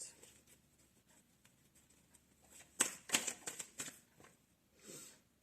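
Tarot cards are shuffled in a quiet room, a brief burst of soft papery riffles and flicks in the middle, close and faint, with no talking.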